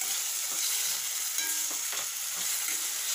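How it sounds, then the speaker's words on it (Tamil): Tomatoes with salt sizzling and being stirred in a cooking pan, a steady faint frying hiss with a few soft scraping stirs, no talking. "கூடவே கொஞ்சம் உப்பு சேர்த்து இதை நல்லா மிக்ஸ் பண்ணிக்கலாம்."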